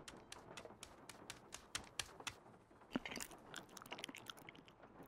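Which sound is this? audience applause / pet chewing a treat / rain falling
pet chewing a treat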